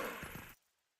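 A wooden box shattering in the video game Twilight Princess, a short bright crash of breaking debris that cuts off abruptly, heard alone.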